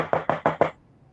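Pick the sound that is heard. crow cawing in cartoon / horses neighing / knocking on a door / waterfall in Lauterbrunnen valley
knocking on a door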